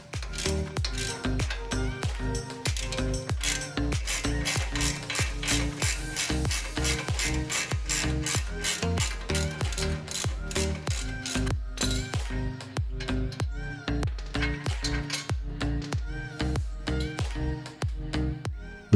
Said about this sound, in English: Next, I loosen the 2 brake caliper bolts so I can remove the caliper and the rotor.